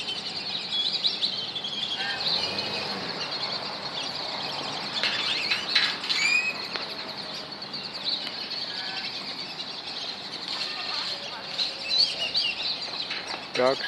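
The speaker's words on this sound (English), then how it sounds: "Ducks everywhere." Ducks, including mallards and whistling ducks, calling and quacking outdoors in a park amid a busy chorus of other birds, fairly close, with scattered chirps and steady background ambience throughout.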